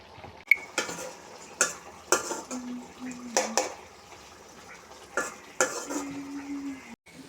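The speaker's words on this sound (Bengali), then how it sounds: "এবার নেড়ে ছেড়ে কষিয়ে" A spoon scrapes and knocks against a pan while potatoes with spices, green chillies and a splash of water fry in it. The strokes are intermittent over a low sizzle, with a few brief tonal whines between them.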